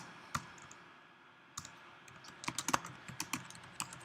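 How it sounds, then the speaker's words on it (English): Typing on a computer keyboard to enter an article title: scattered, crisp key clicks close by, sparse at first, then a quicker burst of keystrokes toward the end, with no voices. "We're going to just type the title."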